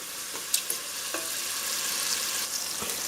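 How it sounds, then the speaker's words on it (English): Chopped vegetables with garlic simmer in a pot on medium heat, giving a steady close sizzle and bubble with a few soft scrapes and taps of a spoon stirring through them. "I have this on a medium heat. I'm going to let this simmer about 6 minutes or until the veggies are tender"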